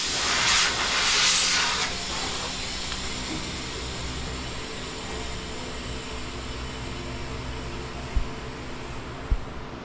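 An air jack valve on a time attack Integra race car is dumped, releasing a loud rush of hissing air that tapers into a steady lower hiss, with a couple of faint clicks near the end.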